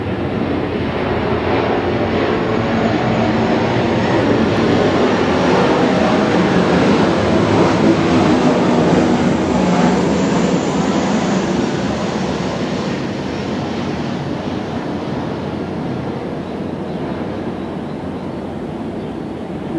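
An airplane passes overhead, a loud broad roar that swells to a peak midway and slowly fades, steady and unbroken with no talking over it.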